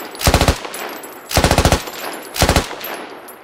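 Machine gun fire from the video game Squad comes in three short, loud automatic bursts of roughly five or six rapid shots each, with brief pauses between them and no talking.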